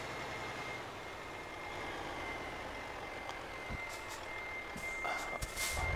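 A truck in the Euro Truck Simulator 2 game, stuck in a big motorway jam, sounds its reversing alarm in a faint regular beep over a steady engine drone.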